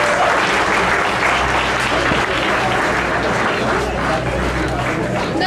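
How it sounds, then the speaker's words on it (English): An audience at an awards event claps in a loud, sustained round of applause, with a faint crowd murmur underneath throughout. "a big round of applause for it"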